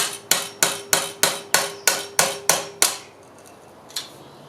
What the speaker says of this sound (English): with the hammer and chisel it made life so much easier to get that other one off